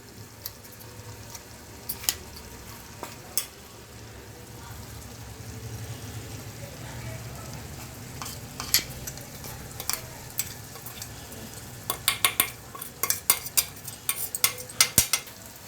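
Gongura pickle being mixed with ground spice powder in a pan, a spoon or ladle clinking against metal in scattered sharp taps and scrapes, clustering toward the end, over a soft low hum.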